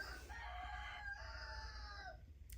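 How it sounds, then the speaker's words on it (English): A rooster crows once, a clear drawn-out cock-a-doodle-doo at moderate distance, alone over a faint background hum. "If it's not the kids, it's the rooster."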